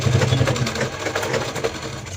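A sewing machine stitching fabric travel bag parts runs in a steady, close, continuous whir with a rapid mechanical rhythm throughout.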